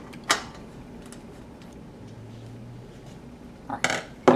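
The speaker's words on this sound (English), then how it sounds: "take your flathead screwdriver and undo these 4 screws that are holding the intake onto the" A flathead screwdriver works loose the four screws holding the intake onto the stator of a Model 2 siren, giving a few sparse metallic clicks and creaks at the start and end over a quiet background.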